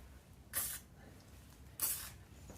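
An aerosol can sprays onto a Toyota Supra engine in two short, close hissing bursts about a second apart, with quiet workshop ambience between them.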